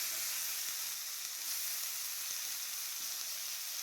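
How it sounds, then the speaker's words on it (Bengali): A soft, continuous sizzle of banana flower frying with ground coriander and cumin in a wok, fairly quiet and steady, with no voices. "ধনের গুঁড়ো জিরের গুঁড়োর সাথে মোচাগুলোকে কড়াইয়ে দিয়ে দেবে"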